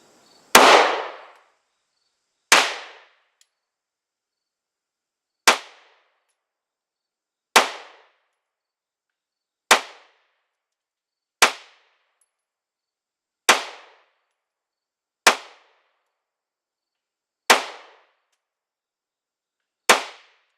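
Ten sharp pistol shots from a Glock 19 Gen 5 with upgraded fiber-optic sights, fired at 7 yards, spaced about two seconds apart, each loud crack decaying quickly into silence with no talk.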